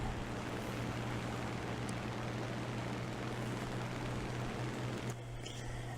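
Typhoon Mk 1a fighter plane engine in War Thunder, a steady loud droning roar with a constant low hum, heard alone without talk.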